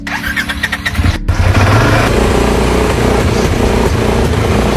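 A Polaris RZR Pro XP side-by-side stuck in limp mode cranks with a few quick pulses, then its engine catches and runs at a loud, steady rumble close by.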